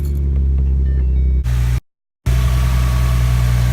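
Idling 2011-14 Ford Mustang V6 with its factory intake tube, a steady close low rumble cut by a brief gap of silence, then continuing unchanged.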